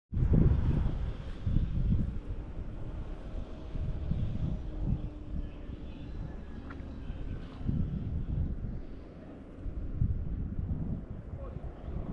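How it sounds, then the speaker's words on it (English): Wind gusting hard against the microphone at an outdoor spot on St Kitts during a rainy quad bike tour, a loud buffeting rumble that rises and falls in uneven bursts throughout. "A bit windy, you might not hear me"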